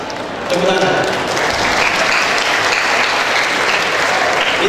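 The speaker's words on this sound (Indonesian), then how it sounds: "Tepuk tangan." Audience applause at a Tadulako University Dies Natalis anniversary ceremony in Palu, a dense, steady clapping from a large crowd filling the hall throughout.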